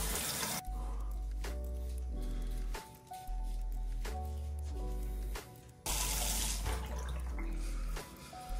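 A razor is rinsed under a running tap, with water gushing in several separate bursts and brief pauses between them. The sound is faint and close.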